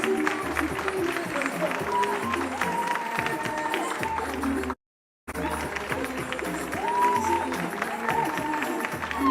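Audience applause for a model on a podium at a fashion show, sustained crowd clapping with cheering mixed in, briefly cut by a moment of silence midway before resuming at the same level.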